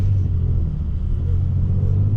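A deep, steady engine rumble from a 2023 Kia Stinger GT2 AWD, loud and close, holding a low throaty drone throughout.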